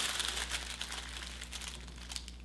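Scissors cut through a paper sewing pattern piece with a continuous close, soft crinkling and rustling of paper and small snips, quiet and with no talk.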